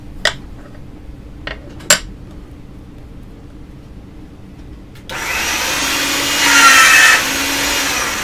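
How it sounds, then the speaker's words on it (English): Polymer clay cane being rolled through a pasta machine on its thickest setting: a steady mechanical grinding whir starts midway and runs to the end, louder than the few sharp taps and clicks that come before it. "one more time to get it thick enough to go through the pasta machine on the thickest setting"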